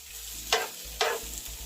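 Onions sizzle steadily in a hot pot while cooking Jamaican ackee and saltfish, with two bright bursts of hissing as they are stirred, close and fairly quiet, no voices.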